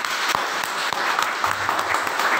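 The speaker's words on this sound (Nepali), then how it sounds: "हाम्रो जीवित परमेश्वरले एकचोटि जोडसँग ताली बजाउनु पर्छ" A church congregation claps loudly together during a worship service, a dense continuous burst of applause with sharper individual claps standing out near the mic.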